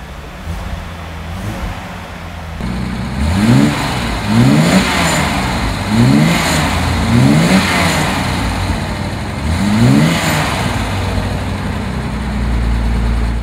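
A 1967 Mercedes-Benz 250SE Cabriolet's engine idles with a steady, smooth hum, broken by several short blips of the throttle that rise and fall in rhythm. The engine sounds close and fairly loud, with no talking.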